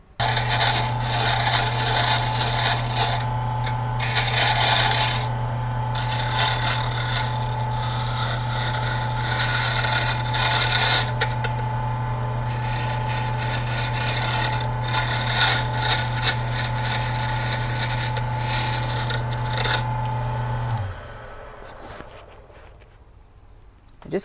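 Turned wood spins on a lathe while being sanded, a steady motor hum under continuous scratchy rubbing that runs for about twenty seconds before the lathe stops and winds down.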